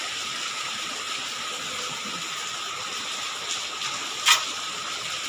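Water rushes steadily through a small creek during a typhoon, a broad even gush that continues throughout at moderate loudness, with a brief sharper splash or knock near the end.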